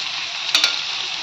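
Cooked hakka noodles drop into a pan of stir-fried vegetables, giving a steady loud sizzle with a couple of quick clattering stirs midway, no voices.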